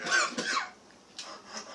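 A person coughs after chewing a hard vitamin C pill, two short close bursts followed by a quieter third cough after a brief pause.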